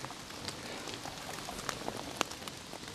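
Rain falling in a forest during an overnight camp, a dense steady patter with scattered sharper drops striking nearby surfaces, fairly soft and with no voices.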